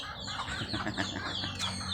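Chickens cluck in short, overlapping bursts around a backyard coop, close and fairly soft, with a faint rooster-like call near the end and no speech over them.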